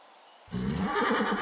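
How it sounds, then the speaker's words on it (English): A horse painted as a zebra neighs in the video game Far Cry 6, a loud, close whinny that breaks in after a brief quiet moment and carries on in a wavering, pulsing call. "It's Anton's fucking zebra. That's a horse and some paint."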